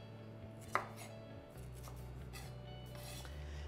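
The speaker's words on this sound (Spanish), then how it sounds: "vamos a agregar un ají amarillo. Y hacemos lo mismo, lo cortamos" A knife chops yellow ají amarillo chili pepper on a board: one sharp knock early on, then soft, faint cutting strokes in a quiet kitchen.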